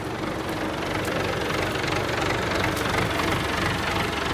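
A tractor engine runs steadily on a farm during a potato harvest, a continuous low rumble with a knocking, idling character that holds at a constant level throughout, with no talk over it.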